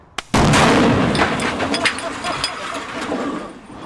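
A sharp blast from a small depth charge goes off after a brief tick, then a loud rumbling boom that rolls and slowly fades over several seconds.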